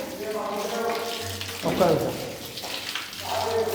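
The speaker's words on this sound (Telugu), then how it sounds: "ఫైనలీ వాటర్ కూడా వచ్చేసినాయి" Water runs from a tap in a home being renovated, a close splashing gush that surges in waves over a low hum, with no clear talk.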